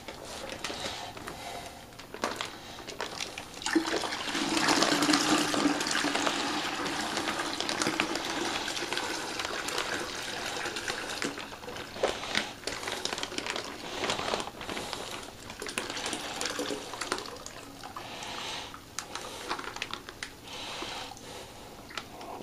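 Water pours into a wine kit fermenter for homemade Barolo, a continuous splashing fill with a rising rush in the middle and occasional knocks and crinkles, close by.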